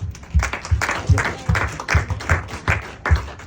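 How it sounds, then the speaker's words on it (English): Audience applause heard as sparse, distinct claps from a small group, landing in a roughly regular beat about twice per second, fairly close and moderately loud. "Give them a round of applause."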